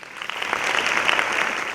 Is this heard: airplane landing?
no